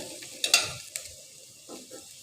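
Onions fry in a pan as chopped garlic goes in, for Chattogram-style khaisha: a steady close sizzle with a few sharp stirring clacks, no talk.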